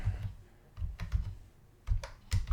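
Computer keyboard keys tapped in short bursts, a few clustered clicks with pauses between, close and fairly quiet, no voices.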